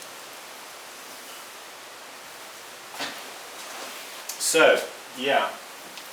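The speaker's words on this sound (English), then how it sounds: "here comes the wind and the rain, I guess." Wind and rain outdoors, beside a pottery wheel, make a steady broadband hiss, and a person talks briefly near the end.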